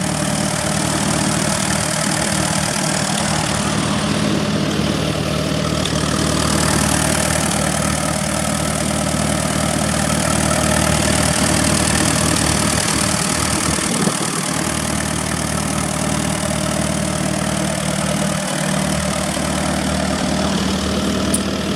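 An Allis-Chalmers WD tractor engine idles steadily just after startup, with a continuous low rumble and a loose, knocking beat that stays loud and close with no talk.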